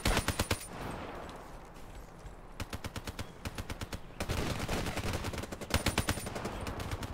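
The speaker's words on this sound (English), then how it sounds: "I gotta bring out a stronger gun for these guys, like the Man-O-War." Man-O-War rifle bursts in Black Ops 3 multiplayer ring out close and loud in rapid volleys, broken by short pauses, over a layer of game background noise.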